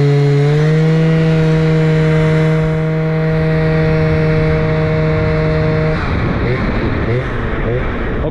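Scooter fitted with a swapped Yasuni exhaust accelerating from 0 to 50, loud and close, its engine note climbing in a long rising whine before breaking into a rougher, buzzing roar after the shift.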